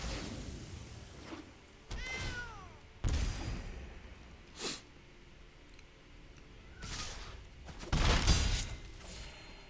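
A cartoonish cat meows as a sound effect in the MTG Arena card game, a short rising-and-falling cry among soft thuds and chimes from the game.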